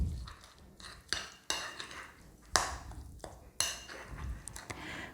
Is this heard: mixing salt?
yes